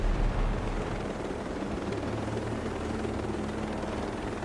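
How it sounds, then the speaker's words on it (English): Helicopter rotor drone in the video game Ghost Recon Breakpoint, a loud continuous low whirring chop that holds steady throughout without speech. "They don't need that helicopter, do they?"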